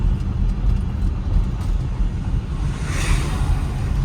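A 1955 Packard Clipper Super Panama, a big 1950s sedan, drives down the road with a steady low engine and road rumble heard from inside, plus a brief rushing whoosh near the end.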